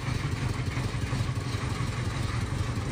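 A tractor engine idles steadily nearby, a continuous low, rough chugging throb with slight clatter, hauling timber boards in a rural yard.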